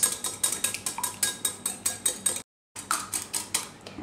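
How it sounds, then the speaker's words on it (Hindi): A whisk beats a mixture seasoned with salt and pepper against a bowl in quick, regular clinking strokes, close and clear, pausing briefly before resuming at the same brisk pace. "सॉल्ट, पेपर और इसको हम अच्छी तरह से विस्क करेंगे।"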